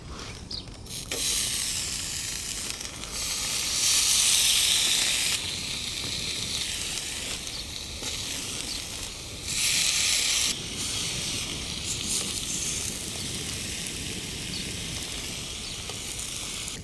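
Food sizzles on a plancha grill set up outdoors on a cycle path, giving a steady close hiss with louder surges, alone without talk.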